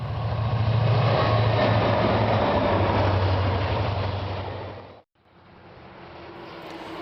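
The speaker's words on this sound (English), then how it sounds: "giving us a fantastic opportunity to see the unique locomotive in action as it passed through Oregon" Union Pacific locomotive 6936 rumbles past in Oregon, a loud, steady roar of engine and rolling wagons that fades briefly before the train noise returns at a lower level.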